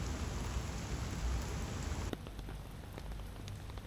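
Steady rain patters on an empty outdoor playground with play equipment, a dense continuous hiss of drops close by, with a faint high whine that cuts off partway through.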